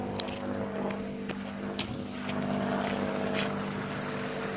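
Rushing water from a waterfall inside the Hoosac railway tunnel, a steady broad roar with a few sharp knocks and scuffs over it, fairly close and without speech.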